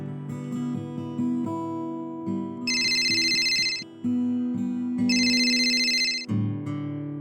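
A phone ringtone plays a repeating electronic melody with bright high tones in two bursts, loud and close, no voices.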